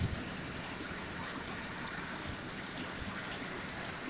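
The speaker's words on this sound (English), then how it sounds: "so happy we got this rain" Steady rain falling, a constant soft hiss with occasional drip ticks, fairly quiet and even throughout with no voices.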